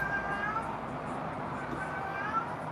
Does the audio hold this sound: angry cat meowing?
yes